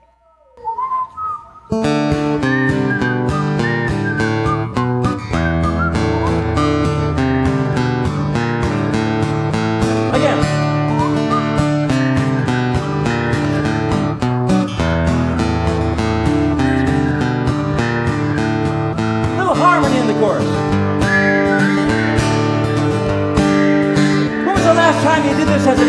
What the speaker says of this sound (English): One of the greatest whistling songs in all of American history.